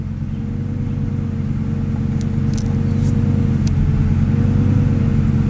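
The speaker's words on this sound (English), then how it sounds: "now, first gear, put it in first. Now, instead of worrying about gas, gently let out the clutch, like really slow" A manual Lamborghini moves off slowly in first gear as the clutch is eased out, its engine giving a steady, loud low rumble that builds slightly without hard revving, heard alone without voices.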